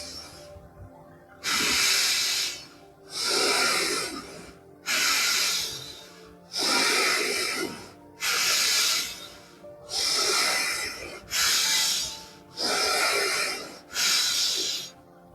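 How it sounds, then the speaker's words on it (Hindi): Slow, deep breaths in and out are taken during the Supta Vajrasana yoga pose: eight long, airy, hissing exhalations at an even pace, close and clear, with quiet gaps for the inhalations between them. "जो अपनी साँस होती है उसको धीरे-धीरे छोड़ना है और लेना है"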